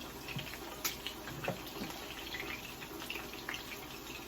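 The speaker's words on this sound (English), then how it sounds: "add the water" Water poured into a pot of Jamaican stew peas, a faint, quiet trickle and splash with a few soft clinks.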